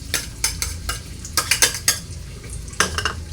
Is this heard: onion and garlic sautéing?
yes